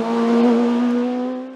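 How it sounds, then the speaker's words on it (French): Midget race car with a rear-drive 1400 cc engine at a hill-climb race, a loud sustained engine note holding steady pitch as it passes close, fading slightly at the end, with no talk. "c'est l'homme fort de la saison qui s'impose au volant de sa version propulsée par un moteur 1400 cm3, Jean-Michel Lestienne."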